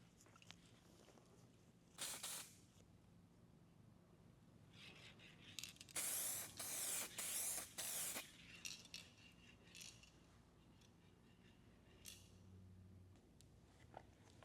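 An automotive spray gun applies base coat paint in a spray booth during a traditional base coat repair, releasing short bursts of airy hiss, one early and then a cluster of rapid passes, over a quiet background with no talking.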